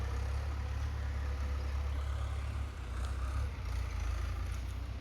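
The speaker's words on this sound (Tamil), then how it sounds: "டிராக்டர் உழவு ஓட்டிகிட்டு இருக்குது." A tractor ploughs the ground of a coconut farm, its engine droning steadily and loudly at close range, with a low rumble that dips briefly midway before picking up again. No one speaks.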